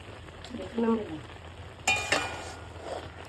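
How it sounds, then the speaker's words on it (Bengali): A spoon scrapes around a pot as grated coconut is stirred into boiled pumpkin, with two sharp metallic knocks midway and brief quiet talk early on. "নারকেলটা দিয়ে একটু নাড়া দিয়ে দেখে নিচ্ছি"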